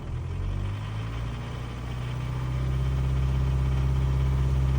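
Car engine held at about 2000 rpm with a misfire, a steady low droning hum that swells slightly louder toward the end, with no talking.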